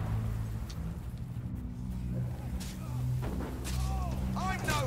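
Gunfire and heavy booms fill a Fable 3 battle, a dense, steady rumble of shots and blasts with whistling streaks near the end and no quiet gaps.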